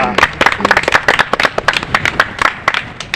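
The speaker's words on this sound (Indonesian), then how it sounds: "Tepuk tangan dulu buat kita semua" A small group bursts into dense, uneven clapping at a Scout training session, sharp close hand claps overlapping for several seconds with no one speaking.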